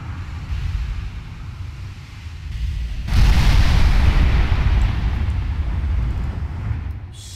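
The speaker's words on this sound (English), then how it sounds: "Assuming we're now firing at the battleship." Battleship main guns fire in the naval warfare game Ultimate Admiral Dreadnoughts: a low rumble builds, then a heavy blast erupts and rolls into a long, loud, booming roar that slowly fades, with no talking.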